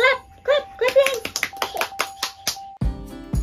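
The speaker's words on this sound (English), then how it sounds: "You give them a clap your hands." Small children aged two to six clap their hands in a run of quick, uneven claps after a classroom traffic light game, an adult voice speaking over the start and a low thump near the end.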